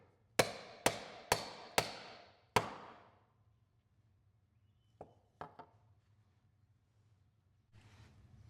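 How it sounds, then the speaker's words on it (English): A leather bag punch is struck with a mallet, five sharp ringing blows in quick succession, then a few lighter taps after a pause, close and clear in a quiet room. "I will put my bag punch on here, and I'll figure where I want it in relation to all the edges and everything."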